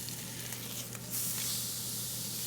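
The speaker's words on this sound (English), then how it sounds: "How we're just searing that layer up there" Thick-cut stuffed pork chops sear in a hot pan, a steady hissing sizzle that swells suddenly louder and brighter midway, with a low hum underneath.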